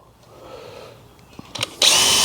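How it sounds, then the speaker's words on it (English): A quiet room, some faint clicks and bumps, then a power drill pre-drilling a screw hole in wood for an Adirondack chair whirs on loudly near the end and keeps running steadily. "I'm gonna pre-drill."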